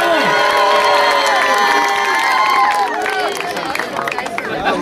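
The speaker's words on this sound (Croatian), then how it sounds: "Jedan aplauz za ekipu Erejza." At a youth football tournament awards ceremony, a crowd cheers and shouts with scattered applause, and children's voices rise high and loud over the noise, with lively babble throughout.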